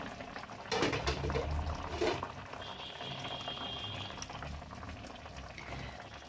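Katla fish and potato curry boiling in a covered pot, a steady close bubbling and simmering with a few louder gurgles, no voices.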